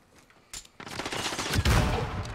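Dense automatic gunfire in Call of Duty Modern Warfare Infected mode, opening with a few scattered shots and building into a loud, sustained fusillade.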